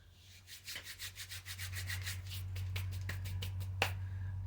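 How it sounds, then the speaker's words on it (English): Hands rubbing together to wear off excess clay, a dry rhythmic scraping and brushing up close, quick repeated strokes at first, then slower scuffs with a faint low hum underneath. "Pardon the noises as I wear some of the excess off of my hands."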